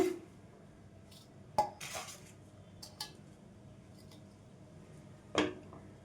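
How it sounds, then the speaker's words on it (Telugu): Milk powder for laddu being scraped and tipped into a mixing bowl in a home kitchen, heard as a few scattered utensil clinks and scrapes against the bowl, fairly quiet, with no talking. "ఈ మొత్తాన్ని కూడా ఒక మిక్సింగ్ బౌల్లో తీసేసుకుందాం అండి"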